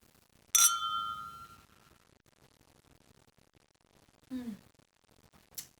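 Glasses of sparkling wine clink in a toast, giving one bright ringing chime that decays slowly, followed later by softer, briefer clinks over a quiet background.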